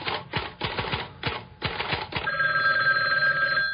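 A telephone rings with a sustained electronic bell tone, heard after a rapid burst of clacking typewriter-like taps at the start; the ringing is clear and close with no talking.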